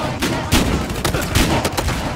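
Rapid bursts of gunfire from the video game Battlefield Hardline crack out in quick succession, loud and dense, with several sharp shots spread across the short span.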